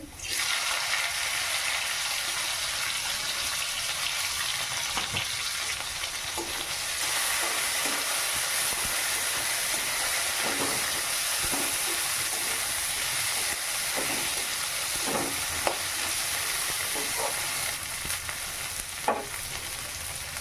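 Sliced onions go into hot oil in a pan after fried potatoes, sizzling and hissing loudly and steadily, with occasional scrapes and taps of a spatula stirring them.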